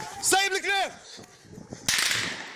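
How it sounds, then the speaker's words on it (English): A sharp gunshot crack in holidaymaker's phone footage rings out after a brief burst of panicked shouting, with noisy handheld ambience around it. "when they heard those gunshots"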